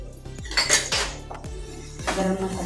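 Large prawns with red chilli powder and spices are stirred in a pan over medium flame, a metal spoon scraping and clanking against the pan in a few distinct close strokes over a faint sizzle, with no voices.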